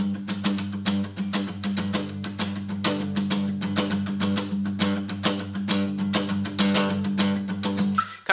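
Acoustic guitar strummed in a steady rhythm with the low G root note accented on nearly every stroke, playing a worship song arrangement, loud and close with no voice.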